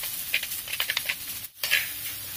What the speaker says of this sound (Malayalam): നല്ലതായി നമുക്കൊന്ന് ഇളക്കി കൊടുക്കാം